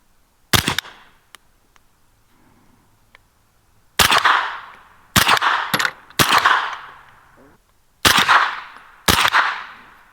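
Suppressed pistol-caliber carbine firing subsonic rounds outdoors: six sharp, loud reports spaced unevenly over about ten seconds, each trailing off quickly, with faint small clicks between shots.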